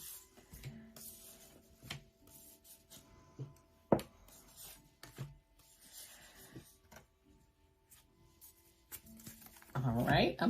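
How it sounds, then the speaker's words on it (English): Tarot cards are shuffled by hand in short, soft riffling bursts and rubs, separated by quiet gaps and a few sharp taps, with a louder flurry of shuffling at the end. "Let me do one more shuffle here."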